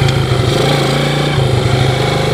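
A Yamaha Moto4 ATV engine runs steady and loud while being ridden on a trail, a continuous mid-pitched drone with slight rev changes and no talking.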